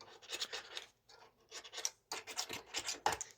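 Metal scraper dragged in short repeated strokes along a blunt, burred STIHL HS 45 hedge trimmer blade to clear sap build-up, a close, rasping scratch in bursts with a brief pause midway.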